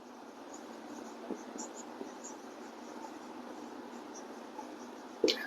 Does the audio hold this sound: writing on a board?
yes